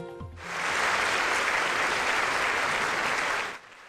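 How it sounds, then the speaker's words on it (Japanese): Enthusiastic applause at a high school homecoming report welcoming a Paris Olympics Japanese men's volleyball player back to his alma mater in Ebetsu, Hokkaido; dense clapping swells in quickly, holds steady, then cuts off. "盛大な拍手で迎えられたパリオリンピックバレーボール男子日本代表の山本智洋選手。"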